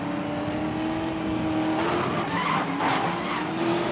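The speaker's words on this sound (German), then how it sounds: "So, rumgedriftet." Continuous tire squeal and skidding from a car drifting in Need for Speed Most Wanted (2012), a steady high screech over an engine drone, loud and close throughout.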